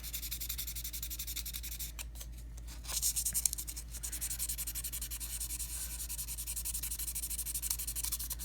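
A Spyderco Vallotton pocketknife has corrosion sanded off it by hand, making a faint, steady rubbing and scratching that grows slightly louder in the middle, with no voices.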